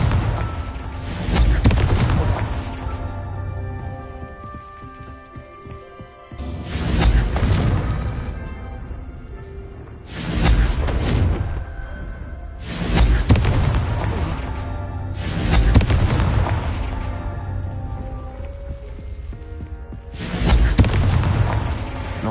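Repeated Confringo spell blasts in the video game Hogwarts Legacy, six loud booming explosions roughly every two to three seconds, each with a sharp crack and a rumbling tail, over a continuous game soundtrack.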